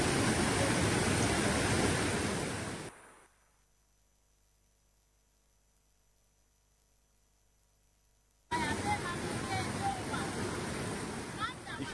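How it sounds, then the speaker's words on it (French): The waterfall at the cascades in Burkina Faso gives a steady, dense rushing roar of falling water. It drops out to near silence midway, then returns just as strong, with voices mixed in. "De venir visiter les cascades, c'est les merveilles de Dieu de la nature."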